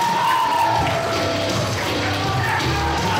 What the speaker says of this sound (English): A very warm round of applause to competitor number 20, Jack Wilson